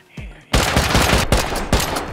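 A Rust raid with explosive ammo opens into a loud, continuous burst of rapid gunfire that pounds on close and without pause after a brief quieter moment at the start.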